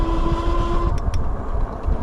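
A car passes along a steep country road, heard as a steady low road rumble from an e-bike rider's position, with a faint tone fading early and a couple of light clicks midway.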